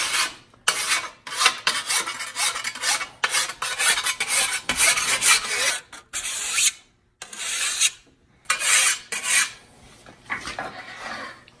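A metal file rasps across a scythe blade on the push stroke only, giving loud, close, regular scraping strokes separated by brief pauses.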